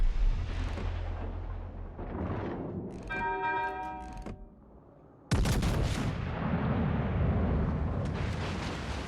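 Heavy naval gun salvos in a warship video game, fired at the battleship Florida: deep booming blasts with rumbling tails, a ringing metallic tone in between, then a loud sustained roar of impact and rolling echo.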